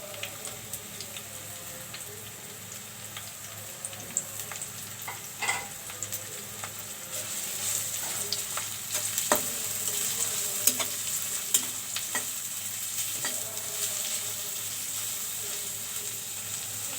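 Onions sizzling in hot oil in a pan while a spoon stirs and taps against the metal, a steady crackling hiss that grows fuller over time, punctuated by sharp scraping clicks.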